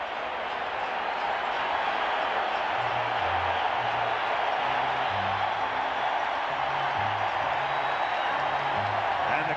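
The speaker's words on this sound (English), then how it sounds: "The crowd rising as one as Downing gets ready to stand in" A packed baseball stadium crowd at the 1986 ALCS Game 5, Red Sox at Angels, rises and roars steadily as the batter steps in, a constant dense wash of cheering with organ notes playing beneath.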